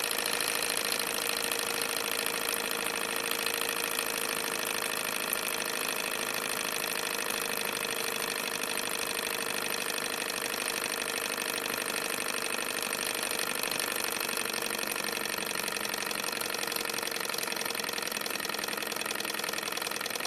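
A model Stirling engine runs continuously at a steady, fast mechanical whir with a faint rhythmic ticking, even in level throughout, close by with no talking.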